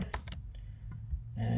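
Quick run of computer keyboard keystrokes while entering a username during a software installation, several close crisp clicks bunched at the start, then fading to quieter room noise.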